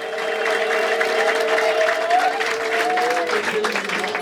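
A church congregation claps for Jesus at a prophetic service, steady sustained applause from a crowd while a voice carries over it with long sung or drawn-out tones.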